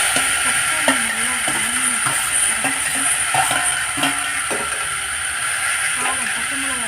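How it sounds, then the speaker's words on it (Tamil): Tomatoes cook in a pan for a tomato kuzhambu, giving a steady, close hiss of frying throughout, broken by occasional stirring knocks. "அந்த அளவுக்கு தக்காளி நல்லா வதக்கணும்."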